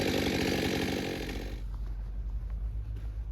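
An MTronic auto-tune chainsaw revs loudly and then settles to a steady, low, rumbling idle, heard up close with no voices.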